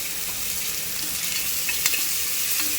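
A steady sizzling and frying hiss of ginger garlic paste sautéing in a pan, with faint stirring scrapes, continuous and moderately close, no talking.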